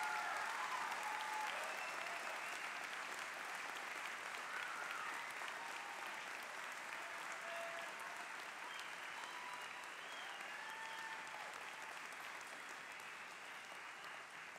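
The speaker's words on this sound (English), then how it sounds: "Let's give one more big round of applause to the 2013 Dental and Dental Hygiene graduates." Sustained applause from a commencement audience honoring dental and dental hygiene graduates at West Virginia University, a dense, steady clapping that fills the space and tapers slightly toward the end, with faint crowd murmur beneath.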